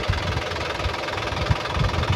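A 2010 Isuzu Panther pickup's turbo diesel engine idles steadily, with a dry, knocking diesel rhythm and regular low thumps, close and alone without talk.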